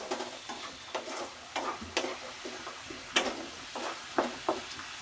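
A utensil stirs ginger paste and tomatoes in a frying pan, giving repeated scraping strokes in an uneven rhythm over a low, continuous sizzle, close and fairly quiet.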